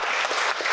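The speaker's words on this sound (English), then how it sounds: "I think maybe we could all just give ourselves a round of applause for being here today" A brief burst of clapping rises from the audience at an academic religion-studies panel, dense and close, lasting under a second.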